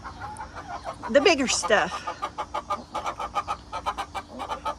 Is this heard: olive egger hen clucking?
yes